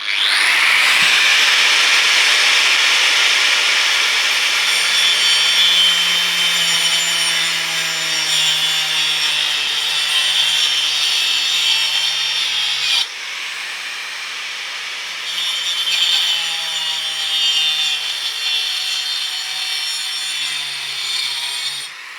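A circular saw fitted with a Bosch Carbide Multiwheel disc cuts through wood in a loud, continuous close-up grinding rasp, briefly easing midway before biting again, with no talk.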